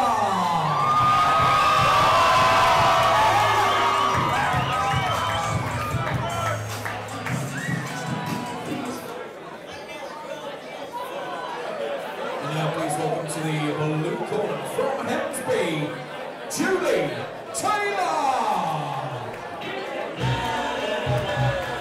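A home crowd at a white-collar boxing night at the London Irish Centre cheers and whoops loudly as a boxer makes her way to the ring, with steady chatter, shouts and a commentator talking over the noise.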